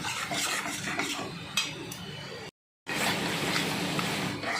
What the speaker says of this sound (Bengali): লবণ দিয়ে এবার বেশ কিছুক্ষণ আমি নাড়তে থাকবো